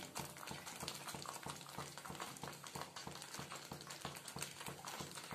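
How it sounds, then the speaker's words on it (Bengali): Paneer gravy bubbles at a steady boil in a pan, a dense continuous simmer with soft repeated pops throughout and no voices. "এবার আমার গ্রেভিটা একটু ফুটে যেতেই আমি পনিরগুলো ঢেলে দিচ্ছি।"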